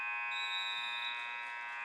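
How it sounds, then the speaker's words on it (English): A loud electronic buzzer sounds one sustained, steady tone to end the second period of a high school varsity wrestling match between Mount Carmel Area and Shikellamy, alone with no talk over it. "And on the buzzer, the second period will end."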